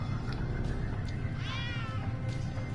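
A cat meowing in the video game Judgment, a single drawn-out meow rising faintly over a loud, steady ambient rumble of the game scene.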